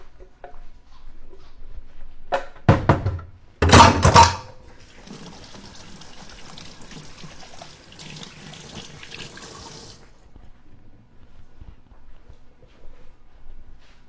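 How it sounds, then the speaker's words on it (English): A kitchen sink tap runs while hands are washed, starting with a few loud splashy bursts, then settling into a steady, softer stream that fades out, with no talk. "I'm going to take this to the sink and wash my hands."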